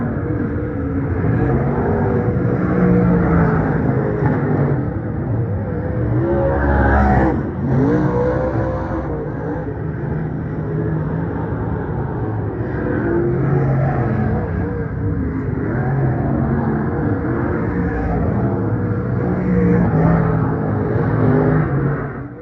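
Mega modified race cars run hot laps at Farmington Empire Speedway, a continuous loud engine roar that surges and fades as cars pass, with a sharp throttle swell around the middle.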